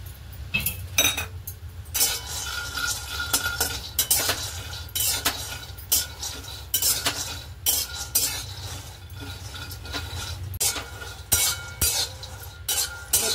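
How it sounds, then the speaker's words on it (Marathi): Peanuts roast in a kadhai while a metal spoon stirs and scrapes them in irregular clinks and rattles, the dry nuts rustling against the pan over a faint low hum. "तर शेंगदाणे भाजून घेऊया"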